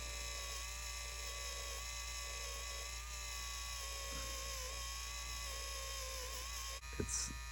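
Steady, close motor whine from an Espleé Mani Nail Shiner and Buffer running on a thumbnail, holding an even pitch for several seconds before cutting off with a brief clatter near the end.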